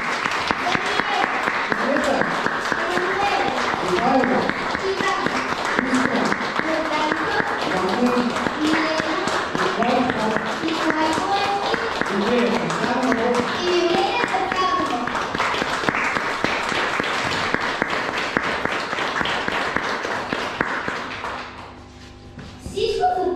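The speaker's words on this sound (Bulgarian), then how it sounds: "А сега нека приветстваме с аплодисменти и героите на нашия празник." An audience at a 7th grade graduation ceremony claps long and steadily, a dense and loud wash of hands with voices and shuffling mixed in, fading out near the end before some fresh noise returns.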